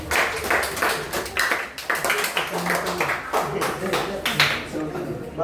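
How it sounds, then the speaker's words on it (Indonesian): Scattered clapping from a group, uneven and moderately loud, mixed with crowd noise and voices in the background. "Tepuk tangan."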